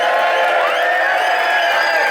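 A festival crowd at an American-style car event cheers and whoops in a loud, continuous burst of many voices, close and bright, lasting a couple of seconds.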